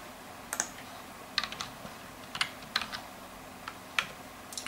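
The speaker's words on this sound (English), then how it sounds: "you simply go to support and start typing in your model here" Someone types a model name into a support page search box on a computer keyboard, producing a handful of sharp, close keystroke clicks in short irregular bursts over a quiet background.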